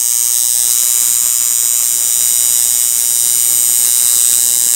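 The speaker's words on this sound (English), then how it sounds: "Every tattoo machine is different and will run most efficiently at different duty cycles than another machine might run most efficiently at" A tattoo machine runs at a steady high-pitched electric buzz, constant and close with no change in level, heard alone without any voices.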